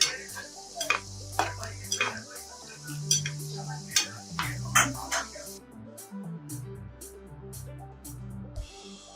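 Jackfruit chips frying in hot oil and stirred with a metal spoon, giving repeated scraping clinks against the pan over a steady low sizzle, close and fairly loud, with no talking.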